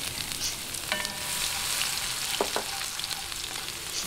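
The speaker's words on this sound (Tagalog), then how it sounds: "umpisahan na po natin yung paggigisa at mainit na po itong aking mantika." Hot cooking oil sizzles steadily as sautéing begins, a soft, even crackle with a few faint clinks and stirring scrapes scattered through it.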